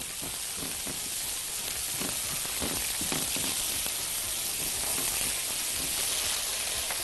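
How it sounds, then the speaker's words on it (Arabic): Onions fry in a pan for a smash burger, making a steady crackling sizzle with scattered pops and a spatula stirring now and then. No voices are heard. "واحنا بنحمر البصل وبنديله لون كده"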